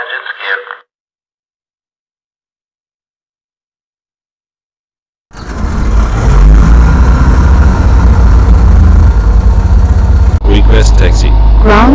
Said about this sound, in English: Ready for engine start.